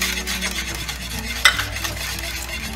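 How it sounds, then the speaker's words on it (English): Hot milk is stirred in a pot as vinegar goes in to make ricotta. Continuous close swishing and scraping runs throughout, with one bright clink of a spoon against metal midway. "we're gonna add that 1/3 cup of vinegar while stirring"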